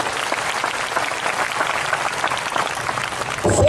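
Steady applause from a church congregation at a revival service, continuous clapping filling the whole stretch, swelling slightly louder at the very end.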